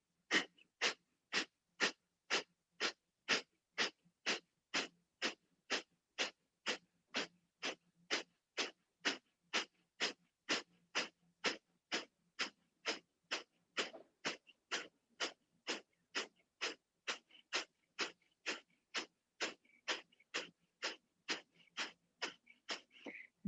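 Rapid yogic breath-of-fire breathing during a Kriya abdominal exercise: forceful, evenly spaced nasal exhalations, about two per second, continue steadily and close up for over twenty seconds with no talking.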